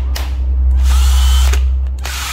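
A Japanese 12V cordless hammer drill runs steadily and loudly, with a constant motor whine and a few brief clicks or bumps as it is handled.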